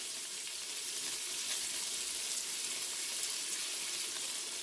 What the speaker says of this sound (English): Add in the whole onion that's been slivered, and you can hear it sizzling.